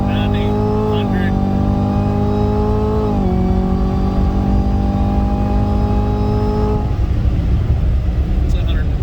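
A 2018 Chevrolet Camaro ZL1 is floored from inside the cabin with traction control off, its loud engine note climbing through three gear changes before easing into a roaring, wind-filled drone while voices speak over it.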